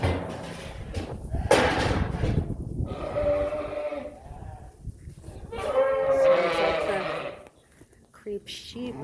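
Hungry creep-fed sheep and goats bleat loudly at feeding time on a farm, with two long, wavering calls close by and someone talking over the animals.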